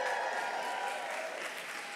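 An audience at a school honors recognition ceremony claps together, a dense burst of applause that starts strong and tapers slightly while continuing throughout.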